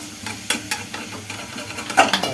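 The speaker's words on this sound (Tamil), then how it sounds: "ஸோ இப்போ வந்து நான் எல்லாத்தையும் ஃப்ரை பண்ணிக்கிறேன்." Food fries in a pan with a soft, steady sizzle, broken by a quick series of scraping spoon strokes against the pan, heard up close.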